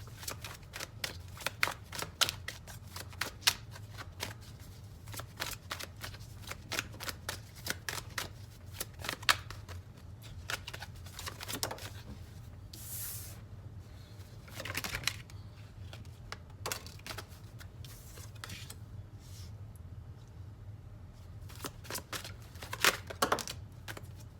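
Tarot cards shuffled by hand over a steady low hum, with ongoing riffling and crisp card snaps, several louder bursts and brief soft sweeps, no talking.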